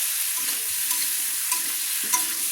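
Spices stir-fried with pumpkin, potato and oil over a low flame, a steady sizzle with soft scraping stirs recurring every half second or so, close and alone.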